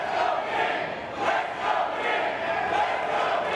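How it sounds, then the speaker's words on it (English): A wrestling crowd roars and cheers steadily for the champion at a live women's match, a dense, sustained wall of voices with small surges in excitement throughout. "This crowd really behind the champ."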